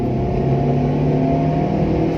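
An eleven-year-old 2009 Daihatsu Xenia 1.3 Xi with a 1300 cc engine pulls hard in second gear, its steady droning engine note close and loud, with no talking.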